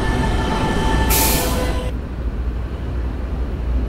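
Subway train in the Roblox game PTA Subway on the Fifth Av Lines: a steady low rumble of the running train, with a brief bright hiss burst partway through, and no voices.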